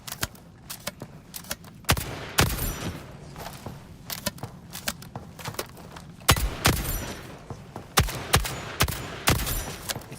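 Shotgun blasts from the video game ALARA Prime ring out in quick irregular bursts, sharp and punchy, close up with short pauses between volleys and faint footsteps underneath.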